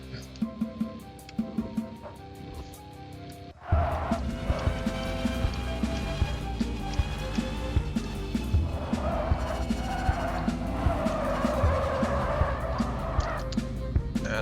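Tires skidding as a car loses grip in the racing game Screw Drivers: a sudden, loud, sustained roar of scrubbing noise and engine that runs on steadily after a quieter opening, with occasional clicks layered over it.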